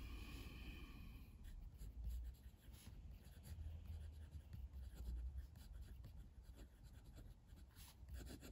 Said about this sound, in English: Just gonna do the writing sample